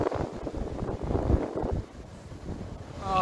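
Strong seaside wind buffets a microphone in gusty, uneven rumbling bursts, loud and close, with no talking.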